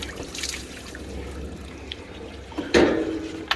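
Water overflows from a hot tub as a spa filter cartridge is dropped into its housing: a soft trickle, then a sudden close splash and gush near the end.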